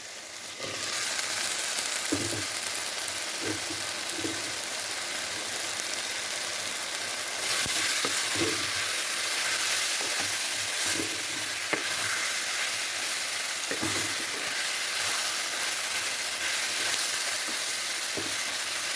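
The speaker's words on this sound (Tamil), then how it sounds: "நம்ம இப்போ நறுக்கி வச்ச காளானை சேர்ப்போம்" Steady sizzle of mushrooms frying in a pan with occasional scraping stirs and soft clinks, continuous and close, with no voices.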